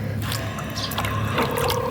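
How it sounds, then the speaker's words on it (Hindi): Water splashes and trickles close by as more water is poured over a hen suffering from heat, an uneven run of drips and pours with no voices. "मैं इसमें मज़ीद पानी डालती हूँ"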